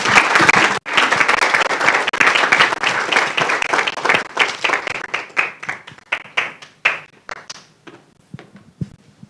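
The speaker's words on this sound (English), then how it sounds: "A better round of applause, tafadhali." Graduation audience applauding, a loud dense burst of clapping from a large crowd that gradually thins into scattered individual claps and fades away.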